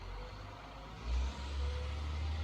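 Low, steady rumble of dump trucks working just outside a window on a New Mexico morning, swelling briefly about midway; any reversing beeps stay buried in the engine drone, and no one speaks.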